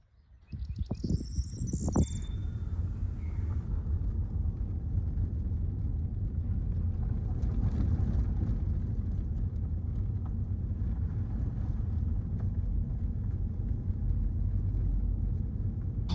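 A car travelling along a rural farmland road, giving a steady low rumble of engine and tyre noise from inside the cabin that holds evenly throughout after a brief clatter at the start, with no talking.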